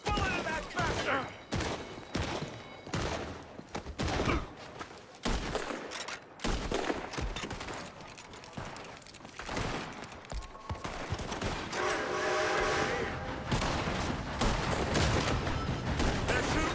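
Rapid bursts of gunfire crackle through a Red Dead Redemption 2 shootout, volleys of shots overlapping with quick sharp cracks and a denser clatter later, heard alongside game voices.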